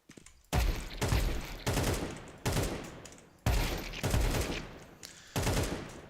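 Loud gunfire in Counter-Strike 2, repeated bursts of rapid shots in about seven distinct volleys separated by short pauses, close and dominant with no talking.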